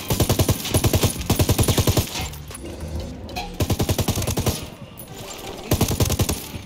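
Light machine gun fire in Ghost Recon Wildlands, repeated loud close bursts of rapid evenly spaced shots separated by short pauses and distant combat noise.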